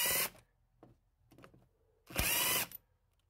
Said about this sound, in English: just taking the drill, the impact, and I'll back out the screws